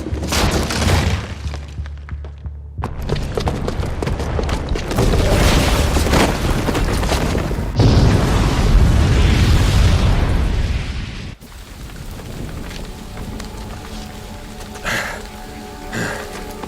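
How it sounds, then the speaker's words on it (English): A booby-trapped bomb goes off in Horizon Zero Dawn Remastered, a loud, sustained blast with crackling, shattering debris and rumbling that persists for several seconds before fading into quieter game ambience. "the booby trap on the bomb downstairs is gonna get set off"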